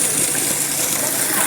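Steady, full rush of gushing spring water, broadband and continuous, close by with no pauses, in Barangay Bagakay.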